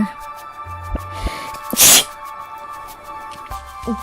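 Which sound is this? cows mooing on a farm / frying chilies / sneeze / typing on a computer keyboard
sneeze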